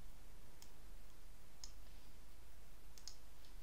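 A few soft mouse clicks spaced apart, faint against a steady low background hiss, made while ungrouping rows in an Excel spreadsheet.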